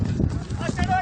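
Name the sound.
horse hooves clip-clopping on a race track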